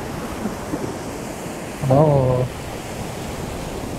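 Sea waves surge at Cola Beach in South Goa, a steady broadband roar of surf throughout, with a brief voiced exclamation near the middle.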